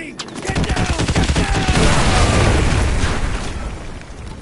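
Artillery strike explosions in Call of Duty Modern Warfare 2 Remastered: a loud, dense barrage of booms and crackling blasts that rolls on without pause, with shouted voices mixed in.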